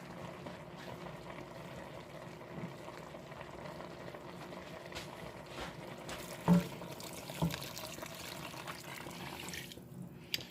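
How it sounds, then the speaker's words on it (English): Water runs steadily into a cup with a low bubbling hiss, joined by a couple of soft clinks, fairly quiet and without speech. "my cup over there is filling up with water"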